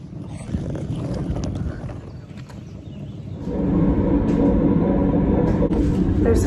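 Steady rumbling rail noise of a moving train carriage in Greece, growing louder and more constant midway, with a faint murmur of voices in the background.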